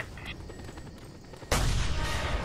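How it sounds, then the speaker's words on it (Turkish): Explosions and gunfire in the Just Cause 2 multiplayer game, a dense distant crackle of shots that bursts into a loud, sustained blast halfway through, with no talk. "Bir şeyler patlıyor da ne oluyor?"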